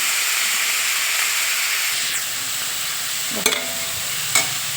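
Mustard greens with salt, sugar and turmeric are stirred in a hot pan, giving a steady close-up sizzle and hiss with a couple of sharp scraping knocks near the end.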